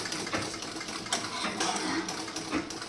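A sewing machine running continuously while double-stitching the armhole of a blouse, a close, steady mechanical whirr with a rapid needle rhythm and faint talk beneath it.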